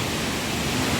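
Rain pours steadily at Wli Waterfalls, the highest waterfall in West Africa, as a dense, even hiss that stays loud and unbroken throughout with no voices.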